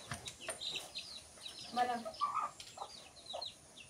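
Free-roaming household hens and a rooster cluck in short, scattered calls, moderately close amid soft background noise, with brief human voices mixed in.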